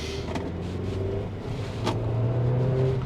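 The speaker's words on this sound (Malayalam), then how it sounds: "ഇപ്പോൾ എഞ്ചിൻ്റെ നോട്ട് അകത്തേക്ക് വരുന്നുണ്ടോ?" Engine note of a Kia Carens Clavis with a 7-speed DCT, heard from inside the cabin as a low, muffled drone that swells and grows louder partway through.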